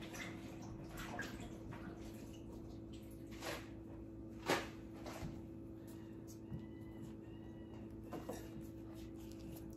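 Tap water runs steadily over eggplant being washed in a kitchen, a continuous close splashing hiss with occasional soft clunks and knocks, under a low background hum.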